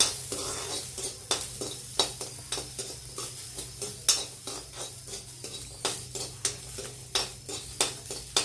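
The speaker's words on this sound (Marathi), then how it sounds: "आता आपण आणलं आणि लसूण भाजून घेणार आहे त्यात थोडंसं तेल टाकायचं आधी थोडं भाजून घ्यायचं" Ginger and garlic roast in a little oil in a pan, a low sizzle running beneath frequent, regular scraping strokes of a spoon against the metal, close and fairly loud, with no voices.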